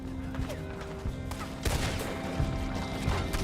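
Gunfire in Red Dead Redemption 2, a dense fusillade of overlapping shots crackling through a steady loud background, with bursts growing heavier in the second half.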